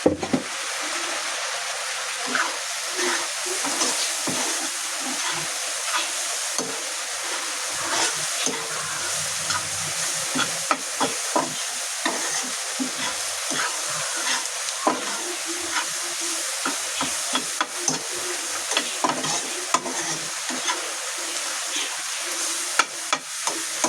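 Onions sautéing in a pan for a dried prawn curry produce a continuous close-up sizzle and hiss, broken by frequent scraping and clinking of a stirring spoon.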